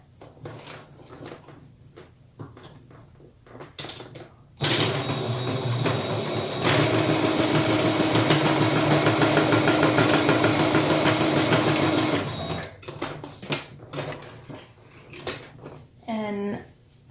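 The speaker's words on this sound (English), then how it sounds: "you want to go ahead and stitch the top here" A sewing machine stitches across the top of a fabric mask in one steady, loud run of about eight seconds, a rapid even whirr, with quieter handling clicks and talk before and after.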